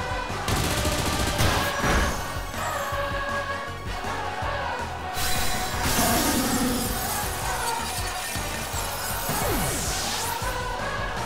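Bullet Punch attack effect from a Pokemon Scarlet battle: a dense burst of rapid, sharp impact hits with shattering, crashing texture, loud and continuous over busy battle music.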